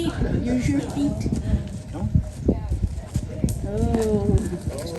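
Horse hooves clip-clop steadily on the ground at a therapy horse farm, mid-distance and continuous, beneath near-constant talk from people nearby and occasional higher voice-like tones.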